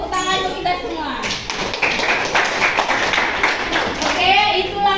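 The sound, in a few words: audience applause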